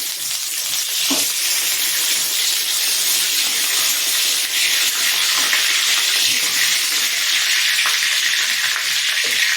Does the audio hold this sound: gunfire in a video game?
no